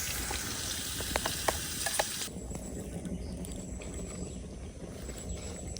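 Garlic and ginger frying in a pan sizzle loudly for about two seconds with a few stirring clicks, then the hiss drops to a quieter, steady crackle.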